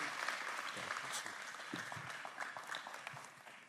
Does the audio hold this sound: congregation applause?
yes